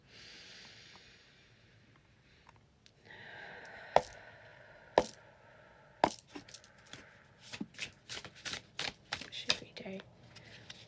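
Cards being shuffled for a tarot reading, with a soft hiss and breath early on, then a close, uneven series of sharp card taps and riffles that grows busier toward the end.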